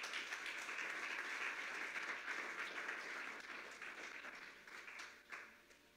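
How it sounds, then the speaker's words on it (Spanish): Broad, continuous applause from a church congregation during an evening service, steady at first, then thinning and fading toward the end, heard faintly at a distance. "Dele un aplauso al Señor"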